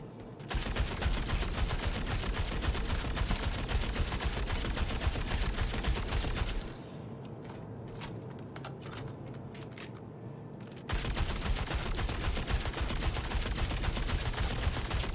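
Dense, continuous gunfire in Star Citizen, aimed at a spaceship airlock, roars loud and close. It stops for a few seconds of quieter clatter, then resumes at full force.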